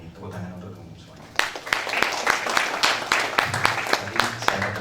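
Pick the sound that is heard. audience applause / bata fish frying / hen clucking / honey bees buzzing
audience applause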